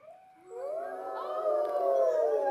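A voice imitates wind howling around a house during a snowstorm, a sustained rising and falling wail that swells from soft to loud and holds steady for a couple of seconds.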